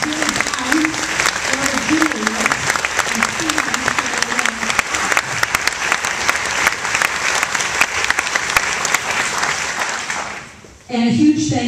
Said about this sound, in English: How about another quick round of applause for all the directors?